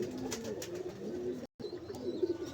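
Rampuri breeder pigeons in Faisalabad coo in soft, low, repeated throaty phrases at close range, with a brief silent gap midway and no speech.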